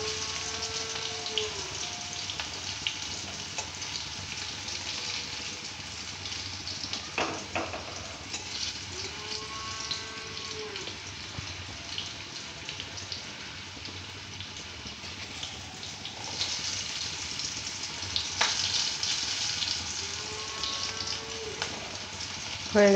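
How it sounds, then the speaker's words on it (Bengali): Meat frying in a pan for a thin papaya curry hisses in a continuous, even, rain-like sizzle for over twenty seconds, with occasional soft scrapes as the pieces are turned; no one speaks. "পুরো সব দিকটা ভালো করে ঘুরিয়ে ঘুরিয়ে লাল লাল করে ভেজে নিলাম।"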